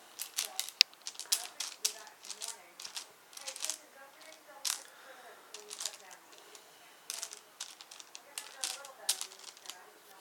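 Chessex dice, including pumpkin-style ones, clatter as they are dropped into gaps in a display, producing many sharp plastic clicks and rattles in irregular bursts, fairly close and moderately loud.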